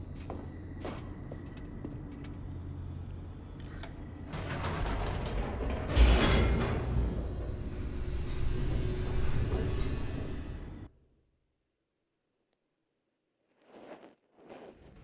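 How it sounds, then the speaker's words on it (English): An elevator descending in The Stanley Parable, a long mechanical rumble with creaks, clanks and ratcheting that builds to a loud jolt, then cuts to silence, followed by two faint brief sounds. "The elevator raced downward, plummeting towards an unknown fate."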